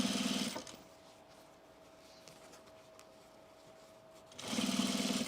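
Short loud bursts of a sewing machine running a basting stitch on cargo pants, one at the start and one at the end, with a quieter stretch and a faint steady hum in between.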